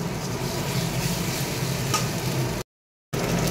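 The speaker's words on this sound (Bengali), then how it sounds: "এবার এটাকে ভালো করে কষাবো পেঁয়াজের সাথে। আদা রসুনের যতক্ষণ না কাঁচা গন্ধটা চলে যাবে ততক্ষণ কষাবো।" Onion fries with ginger and garlic in a pan, giving a steady close sizzle with stirring scrapes that stop abruptly for a brief silence before resuming.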